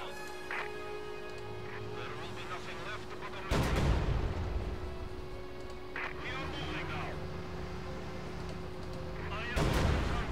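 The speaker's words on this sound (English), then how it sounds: "The IS-2's main cannon could make short work of them." IS-2 heavy tank main cannon firing in the Company of Heroes 2 strategy game: two loud, sharp booms several seconds apart over a constant battlefield din, with rumbling and other game sounds between them.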